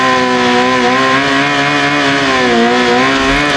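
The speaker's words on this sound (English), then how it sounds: "I did a little bit of a burnout with it" A BMW M1000RR superbike revs hard and steadily during a burnout, a loud sustained engine roar with rising and falling pitch, up close and without voices.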